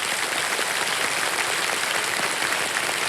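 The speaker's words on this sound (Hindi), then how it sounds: "ताली बज जाए इनके लिए।" Studio audience on the KBC quiz show applauds a contestant, a dense, steady wash of clapping that holds at an even level for the full three seconds with no talk over it.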